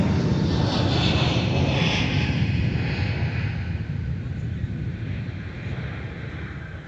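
An airliner landing at Minneapolis–Saint Paul airport in crosswind conditions, a loud steady jet engine roar with wind noise that slowly fades as the aircraft passes.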